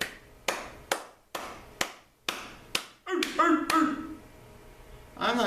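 Hand claps demonstrate a long wavelength, about seven sharp, evenly spaced, loud and close claps, followed by a brief burst of speech and a final clap.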